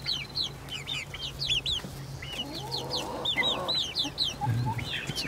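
Young chickens, including brown leghorn and Plymouth Rock chicks, peep and cheep repeatedly in a coop, with a busy overlapping chorus of close high chirps and a few softer low clucks.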